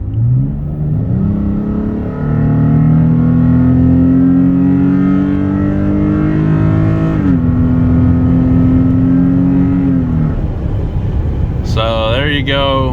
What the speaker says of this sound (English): give it one more full throttle run, and we'll see what the camera can pick up